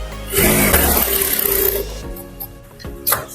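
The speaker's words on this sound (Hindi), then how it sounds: "तो यहाँ पे पट्टी की तरफ आपको एक सिलाई लगा देना है" A sewing machine stitches a strip on a blouse half an inch from the edge, a loud close mechanical whir and rattle for about a second and a half, followed by quieter clicks and handling sounds.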